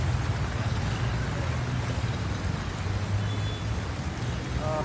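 Heavy rain pours down in Wadala, Mumbai: a dense, unbroken roar of drops on surfaces, evenly loud from start to finish.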